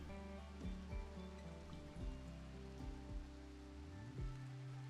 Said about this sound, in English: Oh, it's a rainy day